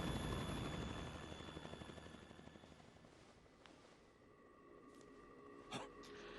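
A helicopter in the video game Metal Gear Solid 2 chops with a steady rhythmic pulse that slowly fades, followed by a few sharp game effects near the end.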